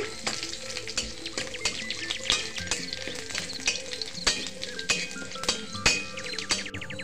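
Garlic, black cumin, cumin and a bay leaf frying together in hot oil while being stirred for a taro-leaf dish, a steady close sizzle broken by frequent sharp clicks of a utensil against the pan.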